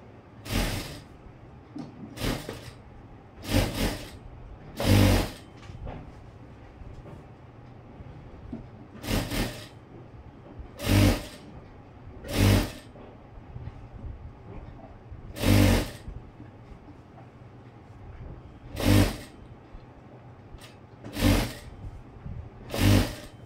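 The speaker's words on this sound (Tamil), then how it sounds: "இப்போ இதில் நான் தைக்க ஆரம்பிக்கிறேன்." Sewing machine stitching a blouse neck piece, starting from the front side of the high band, in loud short whirring bursts separated by pauses, about a dozen runs over a steady low background hum.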